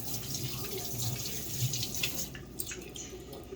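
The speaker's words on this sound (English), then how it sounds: "Let me go ahead and wash my hands." Tap water runs steadily into a kitchen sink during hand washing, a close, continuous splashing hiss that thins slightly toward the end.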